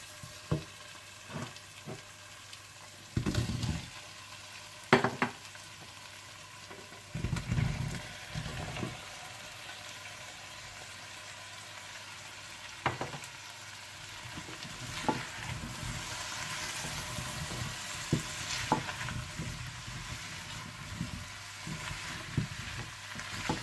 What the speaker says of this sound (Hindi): आप इसमें आलू और गोभी डालकर थोड़ा सा भून दें